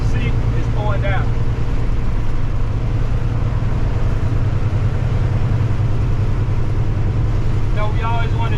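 A Volvo truck with a 10-speed transmission cruises in ninth gear at about 45 mph, its engine a steady, loud low drone that runs the whole way through, with a few faint higher tones riding over it.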